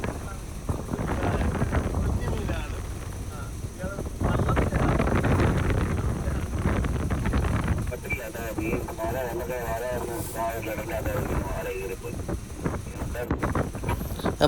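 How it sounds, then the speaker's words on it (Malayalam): Wind blows across a fishing boat at sea, buffeting the microphone in a continuous rough rumble for the whole stretch, with voices talking throughout. "ഇന്ന് നല്ല കാറ്റുണ്ട്."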